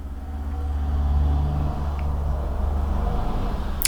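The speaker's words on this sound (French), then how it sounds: "vous allez sûrement entendre les bruits des voitures et des bus" Cars and buses pass in the street outside, a low steady traffic rumble that swells and eases, heard from indoors with no talking.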